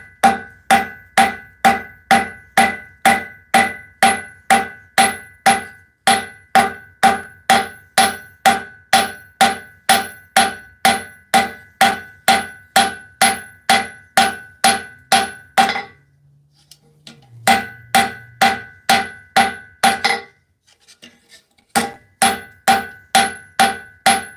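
Metal hammered in a forge while making a set of tekko kagi claws, loud sharp ringing blows in a fast, steady rhythm, pausing briefly for a few seconds before the strikes resume.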